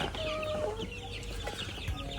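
Chickens gather at a water feeder in a coop, clucking and chirping softly in overlapping calls against a constant hum of farm background noise.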